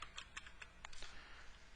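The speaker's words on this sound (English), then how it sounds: "log into the software by pushing L on the keyboard and then type in your username, tab," A handful of computer keyboard keystrokes as a username and password are typed into the GeoVision software, quiet separate taps with uneven gaps followed by a faint brief burst.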